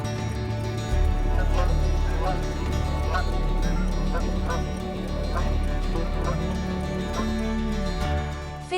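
A goose honks repeatedly amid a busy flock of fowl, a dense chorus of overlapping calls and cackles that fills the whole stretch, close and fairly loud with no speech.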